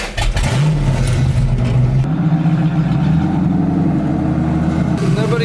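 A 1965 Ford Mustang engine cranks and catches, then rumbles and revs at a steady mid pitch, loud and close.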